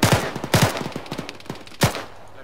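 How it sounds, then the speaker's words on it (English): Bursts of automatic gunfire from suppressive fire in a military video game, several loud close volleys in quick succession with sharp repeated cracks, ending in a final heavy burst and no talk. "Blue team provides suppressive fire."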